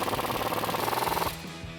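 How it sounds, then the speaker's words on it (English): Control arm bolts on a 2007-2016 Chevrolet Silverado 1500 are driven tight with an 18mm socket and a 24mm wrench, giving a loud, close, rapid rattling burst that lasts just over a second and then cuts off abruptly. "I'm going to take my 18mm socket and 24mm wrench and tighten these down"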